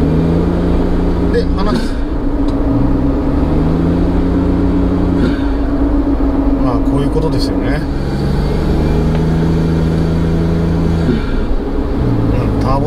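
Suzuki Jimny JB23W with a ZERO-1000 Power Chamber air intake revving repeatedly, engine rising and falling in several close bursts with a slightly high-pitched intake note, while someone talks over it.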